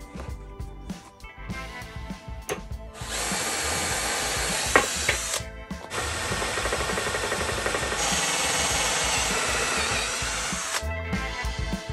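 A power drill drives self-tapping screws to mount a fan ledge during a 4.8 LS engine swap into a 1974 Corvette: two long, loud whirring runs, each held for a few seconds, after brief lighter handling noises.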